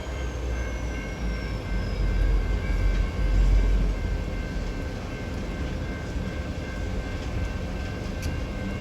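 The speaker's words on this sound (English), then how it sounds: "Train" A train rumbles past at steady volume, a continuous low roar of rolling wagons with faint steady tones above, swelling slightly midway and carrying on without voices.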